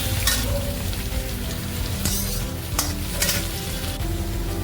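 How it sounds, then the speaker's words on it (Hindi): Onions sauté in a pan over a medium flame, a dense, continuous close sizzle with crackling bursts and a few stirring scrapes, no voices over it. "इसको आप ट्रांसलूसेंट होने तक सॉटे कर लीजिए।"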